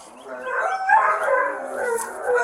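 Several dogs at an animal shelter bark, yip and whimper in a continuous, somewhat distant chorus, with no talking over it.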